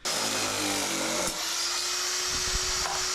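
Power tool cutting thin mild steel sheeting in a garage during 1966 Ford Mustang bodywork: a loud, steady high-pitched whine that shifts pitch as the blade bites, close and without talking.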